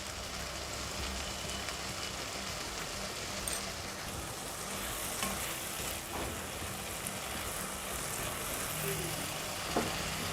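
Spices, bay leaf, cardamom and star anise with salt, frying in a pan for an aloo baingan gravy, a soft continuous sizzle with faint occasional stirring clicks.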